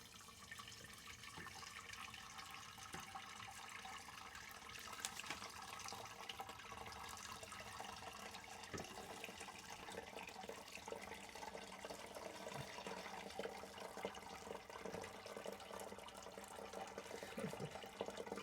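Water poured slowly over grain during home beer brewing, a steady continuous trickle and splash running throughout at a moderate, even level.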